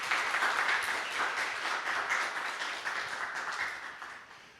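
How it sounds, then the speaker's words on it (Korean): Audience applause after a keynote lecture on Jeolla-do's thousand-year history at a memorial hall, a moderate, fairly distant wash of clapping that slowly fades over a few seconds. "다시 한번 박수 한번 부탁드리겠습니다"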